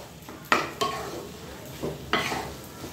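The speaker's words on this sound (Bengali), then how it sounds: "একটু ভালো করে এটাকে কষিয়ে নিতে হবে।" Chicken keema bharta with coriander being stir-fried in a pan, quiet sizzle under several sharp scraping strokes of a spatula against metal, close and without talk.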